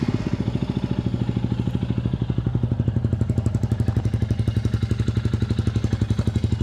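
A Royal Enfield Himalayan 411 motorcycle idles with its exhaust baffle removed, a steady, loud, close thumping pulse that keeps an even rhythm throughout.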